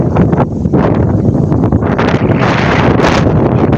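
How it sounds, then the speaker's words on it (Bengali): A strong outdoor gust roars straight into the microphone during a sudden whirlwind storm, a loud, buffeting rumble with surging bursts of wind and no voices. "কথাটা পুরোপুরিভাবে শোনা যাচ্ছে না বাতাসের কারণে"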